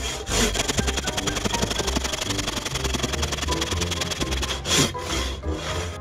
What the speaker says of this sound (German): Eigentlich wäre es schlau, jetzt schon mal hier für den Griff zu sägen.